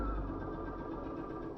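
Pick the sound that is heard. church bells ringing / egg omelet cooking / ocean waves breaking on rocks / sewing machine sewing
sewing machine sewing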